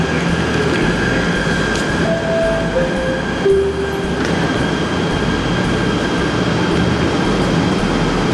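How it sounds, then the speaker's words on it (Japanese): A modern metro train in Malaysia runs through a semi-underground line near Kuala Lumpur, giving a loud, steady rolling rumble from inside the car with thin squealing tones sliding past. "電車の感じは非常に近代的な電車です"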